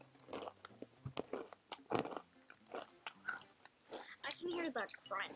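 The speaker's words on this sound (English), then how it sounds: "Crunching on them chips" Potato chips crunched and chewed close to the mouth in a series of irregular crisp bites, with speech mixed in between the chews.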